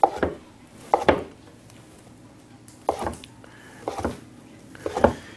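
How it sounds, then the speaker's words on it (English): A knife cuts blocks of seitan into small strips, with several sharp chopping knocks on a board coming in small clusters spread through the clip, close and fairly loud against a quiet room. "we're going to take a couple of blocks of seitan here, and we're going to cut them into small strips"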